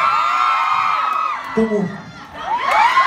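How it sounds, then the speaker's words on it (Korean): A concert audience cheers for the staff, with a burst of high shouting and whooping that swells, dips briefly as a voice speaks, then rises again, loud and close. "I hope you guys clap with us."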